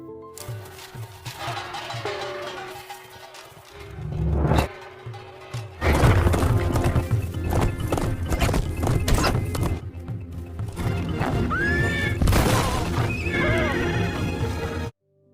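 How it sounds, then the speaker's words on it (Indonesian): A horse in a film scene neighs loudly and shrilly several times, stamping and thudding amid clip-clop hooves and other scene noise, with no speech. "kuda yang ditunggangi tiba-tiba tantrum"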